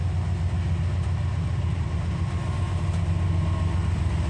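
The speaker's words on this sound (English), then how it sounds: "Oh, here comes this train here, people." Heavy freight train rolling slowly past up close, a dense continuous rumble of engines and cars with steady low throb, no voices.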